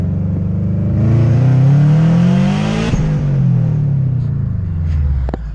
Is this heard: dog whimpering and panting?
no